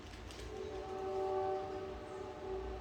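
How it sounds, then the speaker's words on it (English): A train passes in the background, with a steady low rumble and a sustained horn tone swelling and fading, fairly faint and with no talk over it. "I don't know if you hear the train coming in the background."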